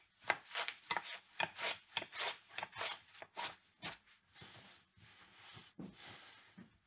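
A knife slices through raw potatoes for a Christmas gratin, the potato held steady on a flat-folded tea towel; quiet, close, repeated rhythmic strokes with soft scraping and rasping, no voices.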